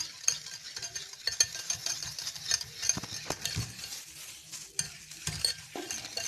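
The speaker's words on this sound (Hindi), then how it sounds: "अब हम लोग इसको अच्छी तरह से रिंस करेंगे, मिक्स करेंगे अच्छी तरह कि ये बहुत फिजी और फ्लफ़ी हो जाए।" Eggless chocolate cookie batter is beaten by hand in a bowl for fluffiness, giving a steady run of close, quick scraping and whisking strokes with small clinks against the sides.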